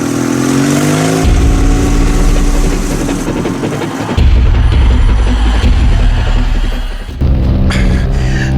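Motorcycle engine revving hard during a chase, a loud, close, continuous mid-pitched roar that rises and falls through several gear changes, with no talk.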